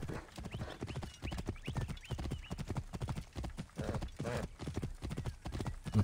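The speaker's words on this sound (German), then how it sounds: "Das war mein Pferd." Rapid hoofbeats of a galloping horse in the video game Assassin's Creed Origins, steady and continuous at moderate loudness, with a brief whinny mixed in.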